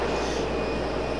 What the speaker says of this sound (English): American 737 coming in.